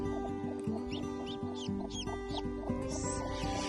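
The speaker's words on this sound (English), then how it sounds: "all 4 little silky chicks have hatched" Newly hatched silkie chicks peep in short, high, repeated chirps from close by, several small calls in quick succession over a constant low background hum.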